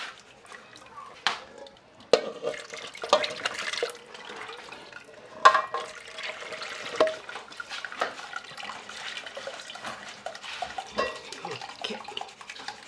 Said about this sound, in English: So we're adding more water.